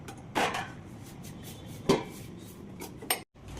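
Dal being stirred in a metal pot after salt goes in, with a few distinct clanks and scrapes of a spoon against the pot, separated by quiet stretches.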